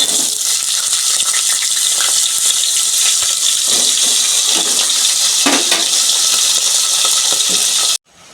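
Potatoes hitting a hot pan in a home kitchen, cooked with curry leaves, frying in a steady, loud, gushing sizzle with scattered crackles that cuts off abruptly at the end; no talking.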